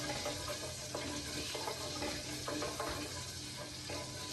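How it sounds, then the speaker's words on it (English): Three medium chopped onions with a tablespoon of cumin seeds sizzle steadily in a pan, a close, even hiss with occasional stirring scrapes and no talk. "Cook the onions to a nice brown colour."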